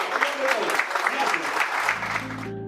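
An audience at a participatory budget event applauds in steady, dense clapping that fills most of the stretch before fading, with a voice starting to speak near the end.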